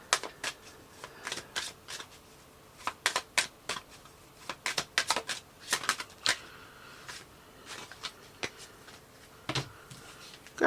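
Tarot cards are shuffled by hand at close range, producing quick, crisp riffles and flicks in irregular bursts with brief pauses between them.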